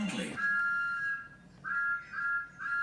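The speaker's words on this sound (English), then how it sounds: "Thomas bubbled his boiler and whistled loudly." A cartoon steam locomotive lets out a loud whistle after a short hiss, a steady tone followed by two more toots in a row.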